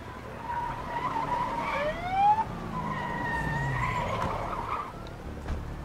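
In the video game A Way Out, an ambulance arrives with its siren wailing in rising and falling sweeps, mixed with tire-skid and vehicle noise at moderate loudness.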